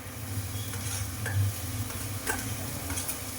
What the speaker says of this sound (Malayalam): ശേഷം നമ്മൾ സവാള ഇട്ട് കൊടുക്കും